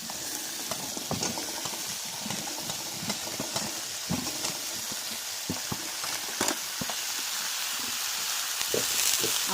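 Cauliflower florets stir-fried in a pan with tomatoes for a fish curry give a continuous sizzle, with scattered scraping and stirring clicks close by.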